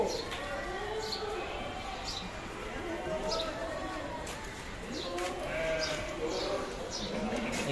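Beetal goats bleat repeatedly at the crowded Deonar goat market, with several wavering calls rising over a steady murmur of market noise and distant voices.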